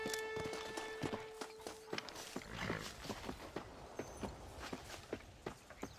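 A horse galloping in the western video game Red Dead Redemption, a quick regular run of hoofbeats continuing throughout, with faint ambient game sound underneath.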